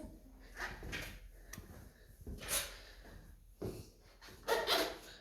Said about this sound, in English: your shoes are squeaking, but the squeak is coming from the sole